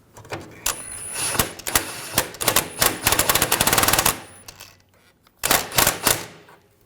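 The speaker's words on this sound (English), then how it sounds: "Just use the wrench. I'm going to get the nut just snug down" Ratcheting wrench snugging a nut down against the cammed washer on a 2007-2013 BMW 328i rear suspension, heard as rapid bursts of close metallic clicks in several runs with brief pauses between them.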